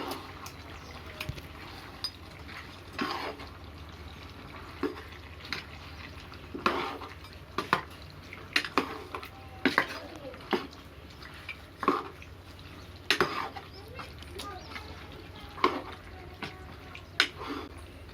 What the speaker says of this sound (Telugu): కారం ఉప్పు వేసిన తర్వాత మళ్ళీ ఒకసారి తిప్పుకోవాలి